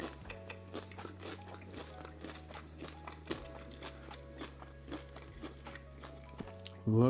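Someone bites into crispy fried chicken coated in rice flour and cornstarch. Close, repeated crunching and chewing continue over a low background hum, ending in a louder bump.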